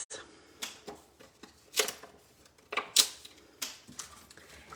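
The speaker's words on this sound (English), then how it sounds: "So I'm going to start just by trimming down my photos" Photos are trimmed down on a paper trimmer, giving a series of crisp, close clicks and short slicing cuts spaced irregularly against a quiet background.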